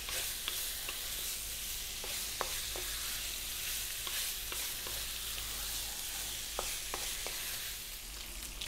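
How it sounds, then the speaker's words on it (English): Pork pieces fry steadily in hot oil over high heat, a dense continuous sizzle with scattered sharp pops and spatters and occasional scrapes of stirring, close and even throughout. "we're going to fry this for about 6 minutes on a high heat"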